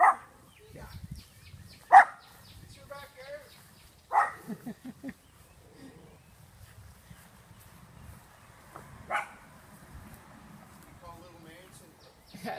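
A puppy barks in a yard, several sharp, close barks coming in irregular bursts with quiet gaps between, alongside a person talking.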